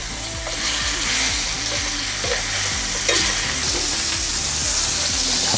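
Top blade and striploin beef steaks sear in a frying pan with a steady, loud sizzle and crackle, broken by repeated scraping and stirring scrapes, with no talking.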